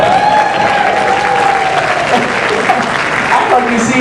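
An audience at a comedy magic show claps steadily throughout, a dense close wash of applause with a voice briefly rising over it.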